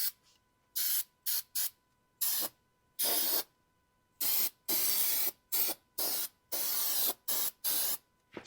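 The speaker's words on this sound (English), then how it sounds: "This is instant adhesive activator." Instant adhesive activator sprayed onto foam inside a car's passenger door, heard as a run of short, sharp aerosol hisses in quick irregular bursts, close and loud, with brief silences between them.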